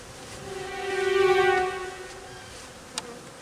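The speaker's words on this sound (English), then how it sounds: "I'm pretty sure I got a bee inside my pants" A honeybee buzzes close by during beekeeping, its whining drone swelling loud and fading within a couple of seconds, followed by a single sharp tick.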